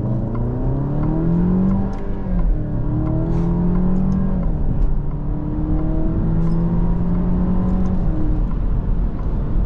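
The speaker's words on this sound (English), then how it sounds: "Now we'll try and use these paddle shifters and see what that's about." A 2024 Alfa Romeo Giulia Ti with rear-wheel drive accelerates hard under paddle-shift control, its engine note climbing through the gears, each rise broken by a quick drop at the shift, heard loud and steady from inside the cabin.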